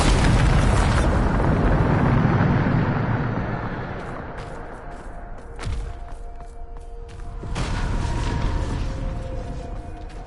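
A Bombarda spell explodes in Hogwarts Legacy, a loud, dense boom that fills the first few seconds and rumbles off into sharp magical crackles and shorter bursts, then swells again.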